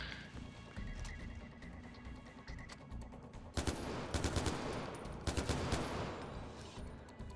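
Two short bursts of rapid gunfire in the video game Far Cry 4 crack out against a quiet, low background rumble, each lasting about a second.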